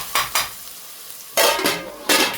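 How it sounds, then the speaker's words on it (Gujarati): Onions frying in a pan for a spicy Gujarati-style prawn dish are stirred with a utensil, giving several short bursts of scraping and sizzling, close and loud, with quiet gaps between. "ચાલો આપણે એકવાર ડુંગળીને મિક્સ કરી નાખીએ."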